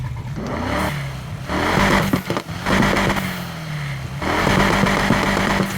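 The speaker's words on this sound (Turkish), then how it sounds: "Egzozun sesini duyuyorsunuzdur." A 1965 Mustang's engine in the video game Need for Speed Heat revs and roars in several loud surges, pitch climbing and falling with each acceleration, no talking.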